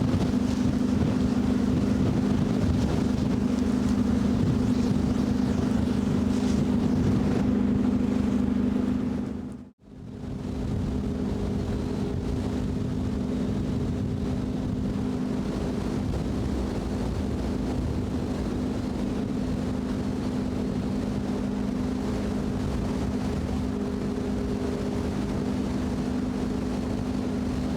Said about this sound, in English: We bang and crash our way through the ice.